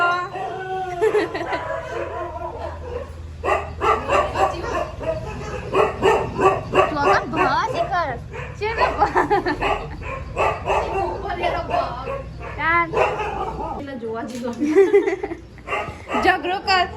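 A dog barks and yips repeatedly in a lively household, the sharp barks coming in quick clusters over the whole stretch while people talk and laugh nearby.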